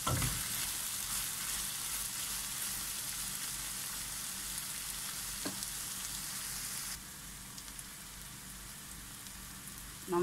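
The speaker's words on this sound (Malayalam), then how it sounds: "ഇതൊന്ന് ഇളക്കി കൊടുക്കാം." Spicy hot sausage and onions frying in a pan as they are stirred, giving a steady, dense sizzle that runs close and loud throughout and eases slightly near the end, with no talking.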